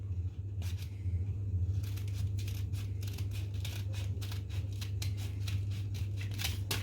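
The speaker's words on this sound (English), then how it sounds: "we will cut right through like so" Scissors cut through baking paper along a creased fold to make a round liner for a chocolate cake tin. Close, crisp snips repeat in a quick, steady rhythm over a low background hum.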